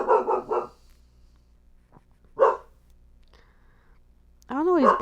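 A doodle dog barks in a few sharp separate bursts close by indoors, with quiet pauses between them and a rising whine-like yelp at the end.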